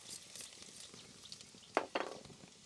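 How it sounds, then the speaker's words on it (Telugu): Chopped ginger and garlic dropped into hot oil for egg fried rice, a faint, soft sizzle with a couple of sharper crackles or utensil taps partway through. "ఆయిల్ అయితే గరం అయిపోయింది. ఇప్పుడు చిన్న చిన్నగా కట్ చేసి పెట్టుకుని అల్లం వెల్లుల్లి వేసుకుందాం."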